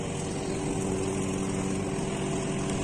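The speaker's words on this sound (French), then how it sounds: "Donc là, elle attaque à la tondeuse." A lawn mower engine running steadily at close range during spring yard cleanup, a continuous even drone with a faint tonal hum and no pauses.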